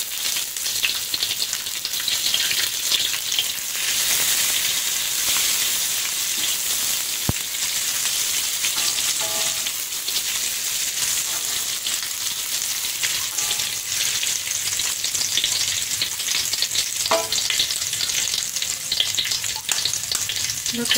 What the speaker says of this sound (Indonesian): lalu kita mau tumis cabenya